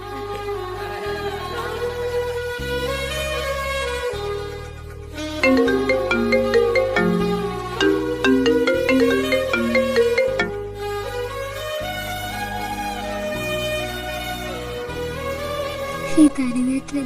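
A phone ringtone plays a melodic looping tune for about seventeen seconds, loud and clear, with the call left unanswered; no voices are heard.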